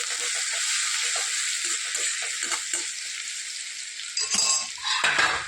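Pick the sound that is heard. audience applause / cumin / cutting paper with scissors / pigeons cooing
cumin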